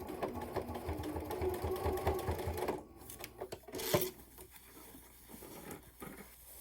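A sewing machine stitches the bottom of a fabric carry-all case, a quiet, steady whirring patter that stops partway, followed by soft handling rustles and a brief thump.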